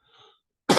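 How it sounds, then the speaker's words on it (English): A single sharp cough from a person with a respiratory virus bursts out after a brief faint tonal sound, close and loud. "Sorry, I may be coughing a bit."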